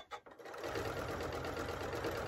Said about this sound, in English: and you just continually sew